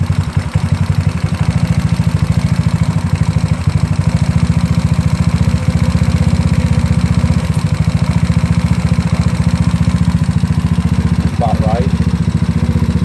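A GY6 scooter engine fitted with a 30mm carburetor idles steadily and loudly close to the microphone, a continuous low mechanical drone with rapid clattering pulses throughout.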